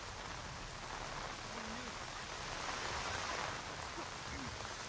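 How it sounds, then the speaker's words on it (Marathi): A dense, steady hiss of heavy monsoon rain in Dadar, Mumbai, fills the scene, with faint distant sounds barely emerging beneath the downpour. "दादर परिसरात मुसळधार पाऊस सुरू आहे"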